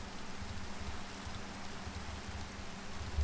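Heavy rain falling steadily in the Minecraft video game, a constant soft hiss with a low rumble, even and unbroken throughout, with no voices.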